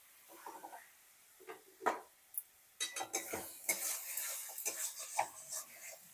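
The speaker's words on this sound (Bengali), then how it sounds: "মশলার সাথে আলু আর চিংড়ি মাছ কষিয়ে নিচ্ছি।" Potatoes and shrimp cooked down with spices in a pan, heard as intermittent scraping and clinking of a utensil against the pan with soft stirring noises, fairly quiet and close.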